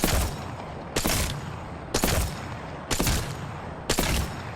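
Sniper rifle fire in the video game Apex Legends: five loud, sharp shots spaced about a second apart, each with a short booming tail, and no talking.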